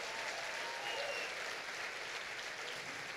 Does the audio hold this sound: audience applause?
yes